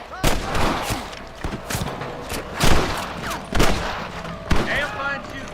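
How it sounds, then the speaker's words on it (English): Gunfire in the video game Red Dead Redemption, repeated loud sharp shots in an irregular volley, with voices and game sounds between them. "Damn fine shooting, boys."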